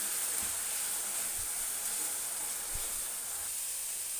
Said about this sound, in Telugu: ఆయిల్ హీట్ అయిన తర్వాత ఆనియన్ పేస్ట్ వేస్తున్నాను